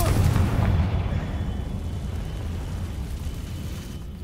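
A Confringo fire spell explodes in the Hogwarts Legacy video game, opening with a heavy booming blast that decays into a long, rumbling roar with no voice over it.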